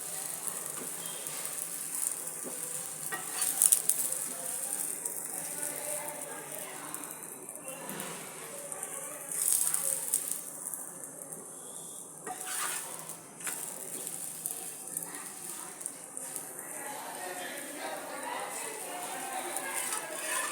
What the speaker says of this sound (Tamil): லேசாக எண்ணெய் விட்டுட்டோம் இப்போ அடுத்த பக்கம் திருப்பி போட்டுருவோம்